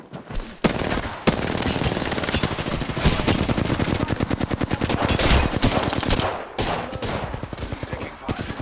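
Video game gunfire crackles in long rapid automatic bursts, loud and dense, with a brief pause near the start and short gaps late on.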